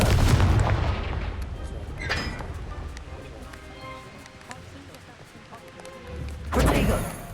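The Confringo blasting spell in the Hogwarts Legacy video game bursts with a heavy boom at the start, then a second loud blast near the end, and quieter rumbling and scattered impacts in between.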